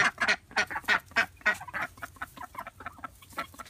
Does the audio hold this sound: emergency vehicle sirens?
no